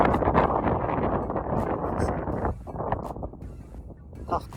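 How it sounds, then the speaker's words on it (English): Gusty wind buffets the microphone outdoors on the Jasper Skyline trail, a steady low roar with rustling that eases slightly partway through. "A little windy up here"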